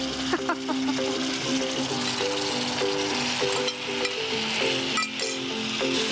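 Small puti fish, pre-fried with salt and turmeric, hit the oil in a pan with a steady loud sizzle, with light stirring clinks and tonal music running underneath.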